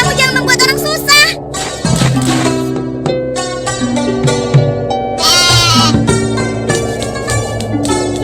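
Goat in an animated Indonesian story about a milkmaid, giving repeated wavering bleats in quick bursts over a steady musical background.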